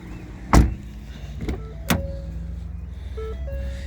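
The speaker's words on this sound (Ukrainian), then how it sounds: "4 склопідіймачі" Ford Kuga Mk TDCI power windows at work: sharp switch clunks at the start, then a low electric motor hum rising and falling as the glass slides, close-up in a quiet cabin.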